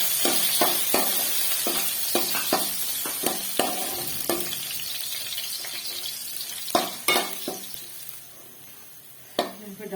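Chopped ginger and garlic frying with onions in a pot for chana pulao, a steady sizzle broken by repeated sharp clinks and scrapes of a spoon stirring against the pan.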